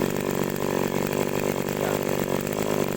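An agricultural sprayer's small engine runs steadily and loudly up close, a continuous buzzing drone with a rapid rough pulse, alone without talk.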